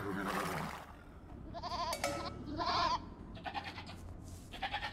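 Several goat bleats from Age of Empires 2: Definitive Edition, some overlapping, sounding synthetic and game-like over a low ambient rumble, with no talking.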